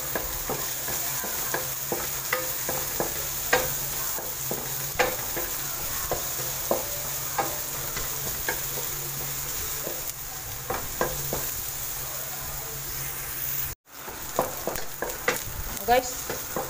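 Garlic and onion sauté together in a pan, a steady sizzle with frequent stirring scrapes and utensil clicks throughout, close and continuous with a brief dropout near the end.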